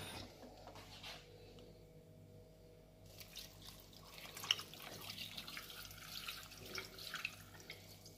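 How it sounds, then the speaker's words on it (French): Water poured from a tap or jug into a cooking pot in a home kitchen, a soft running splash that builds and continues steadily at close range. "Ensuite, je verse de l'eau."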